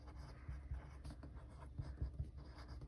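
A pen scratches across the page of a Happy Planner while lesson plans are written, faint close strokes in short bursts over a low background.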